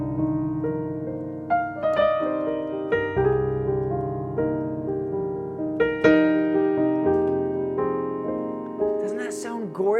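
Piano plays a slow minor chord progression embellished with added notes: rich chords strike every second or two and ring out between strikes, alone and fairly soft.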